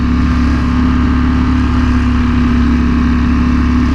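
A Ducati motorcycle with a dry clutch rides through traffic, its engine a loud, steady, close drone with wind rush throughout and no talking.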